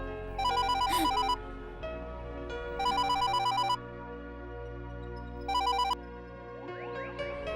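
Electronic telephone ringtone sounding for an incoming call in a Hindi-dubbed thriller, with three bursts of bright warbling tones separated by pauses over quiet background music.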